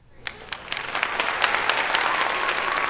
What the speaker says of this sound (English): give us a round of applause for our episode number 20